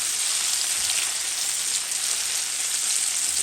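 Browned onions frying in hot oil as tomato and green chillies go in for chana chaat: a steady, loud, close crackling sizzle throughout, with no talking.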